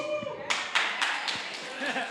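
Audience at a live radio-show conference taping breaks into clapping partway through, a burst of hands that swells and lingers, with a voice talking over the start.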